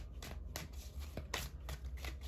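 Soft, quiet riffling of tarot cards being shuffled in a few brief bursts, each a papery flutter separated by short pauses, close by.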